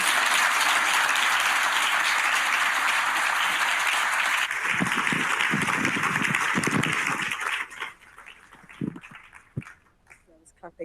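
Audience applause fills a lecture hall after an alumni conversation with a professor, dense steady clapping for several seconds that thins out, leaving a few scattered claps and handling bumps.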